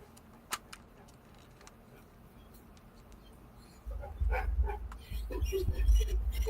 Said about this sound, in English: the dog's whining too